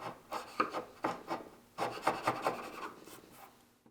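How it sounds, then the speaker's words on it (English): Chisel strokes paring down walnut wood: a series of short, scraping rubs in uneven bursts, fairly quiet and close, with no talking. "I'll chisel the walnut down"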